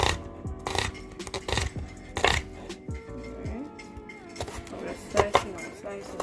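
A knife chops onions on a cutting board for a plantain omelet, with sharp, irregular nearby thuds and clicks of varying loudness over faint tonal background music.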